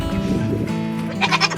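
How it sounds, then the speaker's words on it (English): Goats bleat at close range on a farm, several short wavering calls ending in a brighter cluster of bleats, with no talking. "These are our new goats, and there's the original OG over there."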